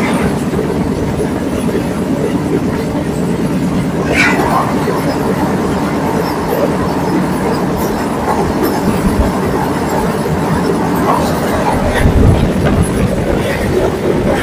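Vande Bharat Express passenger train, the Tirupati–Secunderabad service no. 20702 near Nellore, rumbles steadily on its rails with a continuous close roar, faint wheel clatter and a brief high squeal partway through.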